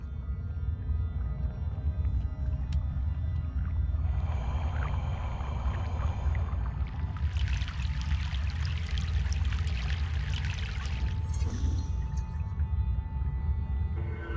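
A boat crossing a river in the video game Broken Sword: The Sleeping Dragon, with steady low rumble and sloshing water, a brighter splashing wash building in the middle, continuous and loud with no talk.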